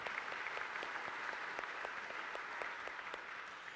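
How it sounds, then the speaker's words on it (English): Light applause from a church congregation during a Sunday homily, soft and fairly distant, with a few sharper individual claps ringing out over a steady patter that gradually thins toward the end. "we deserve to give Jesus a round of applause"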